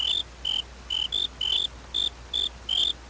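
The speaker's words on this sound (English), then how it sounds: "You hear crickets." Crickets chirping in the Minecraft video game: about eight short, evenly spaced trills, steady and fairly quiet, with no talk.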